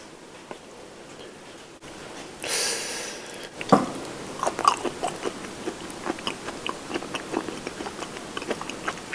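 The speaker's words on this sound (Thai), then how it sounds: "มาลองตับ ดูความสดนะครับ" Raw, fresh beef liver being bitten and then chewed up close, with a sharp bite followed by a steady run of wet, squelchy chewing and soft crunches, and no talking.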